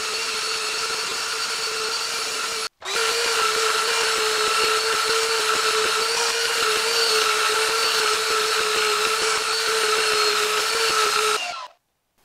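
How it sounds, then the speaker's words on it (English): An orbital sander with 120 grit paper works over an oak entry door in a loud, continuous whine, with one brief stop early on and a sudden cutoff near the end. "use my orbital sander with some 120 grit and got all the scratches from the belt sander out"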